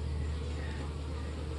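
Honeybees buzz around an apiary amid overgrown grass, a faint steady hum from many insects under a low outdoor drone.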